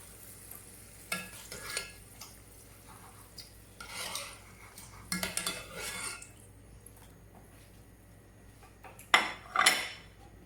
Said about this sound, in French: mon omelette est en train de cuire. Je vais la retourner.